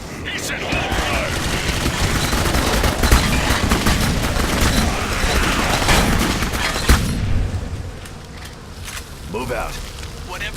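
Rapid bursts of gunfire and heavy impacts from the first-person shooter Jericho ring out close and loud, with scattered booms over continuous battle noise while soldiers' voices shout through the fight.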